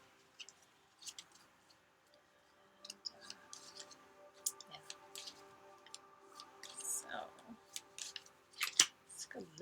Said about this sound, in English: Let's do some more shuffling here and make sure everything is shuffled well.